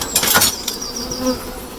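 Honey bees buzz steadily during an inspection of a National 14x12 hive, a dense close drone with a few louder passing bursts and a faint scrape of a hive tool.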